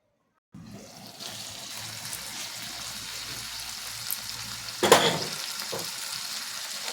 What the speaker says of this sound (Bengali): মাথা অলরেডি সেদ্ধ হতে শুরু করেছে, একটু আঁচটা কমিয়ে দেবো।